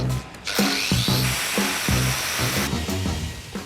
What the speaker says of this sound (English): I'm just going to angle grind it off.